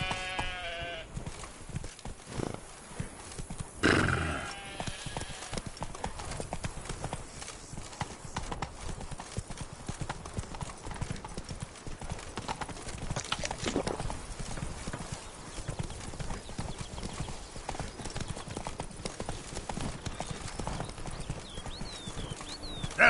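In The Witcher III, the horse Roach trots with rapid, rhythmic hoof clip-clops over a long stretch, moderately loud, with a brief louder burst of other noise near four seconds.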